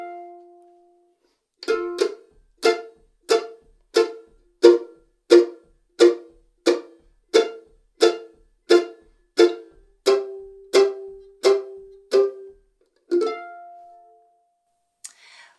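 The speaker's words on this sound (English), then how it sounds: "your backup might sound something like this" A mandolin keeps up a basic boom-chick backup rhythm, alternating bass notes with short percussive chord chops in an even, steady pulse, played close and alone without any talking.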